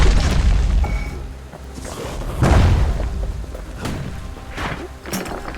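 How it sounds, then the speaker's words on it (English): A video game grenade goes off in a deep boom at about two and a half seconds, with smaller thumps and pops before and after over continuous rumbling game ambience. "Got grenades now."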